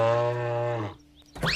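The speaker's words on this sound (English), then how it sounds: "It sounded like a cow" One low, drawn-out cow moo, loud and close, fading out before a brief quiet and a short new sound at the end.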